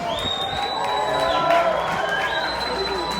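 Arena crowd at the TNT Motorsports Unfinished Business national event in Raleigh, North Carolina, 2022 cheering and whooping in a steady, loud wash of noise with scattered shouts, an announcer's voice carrying over it.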